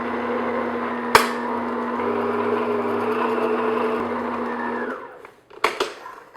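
Electric mixer on medium speed beating sugar into rugelach-style cinnamon roll cookie dough, a steady close motor whir with a sharp clack near the start, then cutting off with a couple of bumps and knocks at the end.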